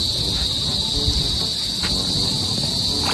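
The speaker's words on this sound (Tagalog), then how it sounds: "May kuliglig na." Crickets chirp beside a milkfish pond in a loud, steady, high-pitched trill that runs without break, with faint low rumbles and light noises in the background.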